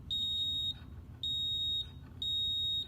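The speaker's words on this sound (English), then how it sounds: "It almost sounds a little bit like a fire alarm." A toy sound sensor gives three evenly spaced, shrill electronic beeps, each lasting well over half a second and sounding like a smoke alarm, clear and alone against a faint background.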